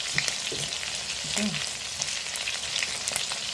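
Carrots and onions frying in a pan give a steady, close sizzle with some stirring clatter, continuous with no talking over it.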